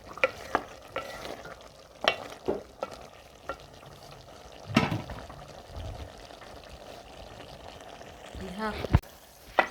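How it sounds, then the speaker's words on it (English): Broccoli cooking in a pot, stirred with sharp intermittent scrapes and knocks over a soft background sizzle, fairly quiet and close. "So let's cook our broccoli also."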